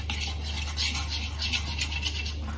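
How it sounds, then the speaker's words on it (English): Besan (gram flour) batter being stirred for Maharashtrian kadhi, a steady scraping and clinking of a spoon against a bowl with soft wet patter, close and continuous under a low constant hum. "Mix it properly so that there are no lumps."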